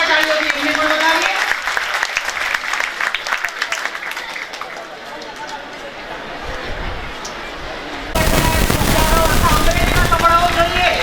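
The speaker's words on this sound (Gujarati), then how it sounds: "એક વખત જોરદાર તાળીઓથી એમને પણ વધાવીએ" Enthusiastic crowd applause for food donors at a community sacred-thread ceremony in Amreli, dense clapping mixed with voices, easing in the middle before swelling loud again.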